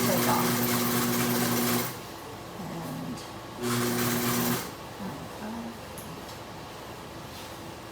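A Consew industrial sewing machine stitches fabric in two loud, steady motor-driven bursts, each roughly a second or two long, with a quieter hum and shuffling between them and a brief spoken word.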